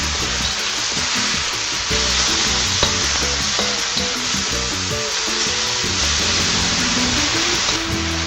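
Peanuts being stir fried in a pan sizzle and crackle steadily and fairly loudly throughout, with scraping and stirring knocks from a utensil mixed in.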